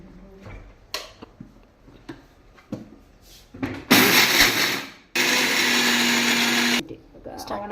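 Mixer grinder coarsely crushing millet at home, heard in two loud bursts of whirring motor and rattling grain, each lasting a second or two, with quiet clatter and a person talking between them.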